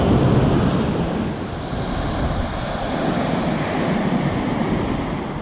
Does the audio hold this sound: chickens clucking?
no